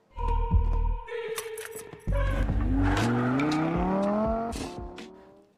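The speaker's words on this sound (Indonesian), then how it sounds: "Mereka pun melarikan diri dari tempat tersebut dengan menggunakan mobil Lamborghini milik Choi." A Lamborghini in a film speeds away, its engine revving up through rising gear sweeps with tire squeal and skidding, loud and close for several seconds with no talk.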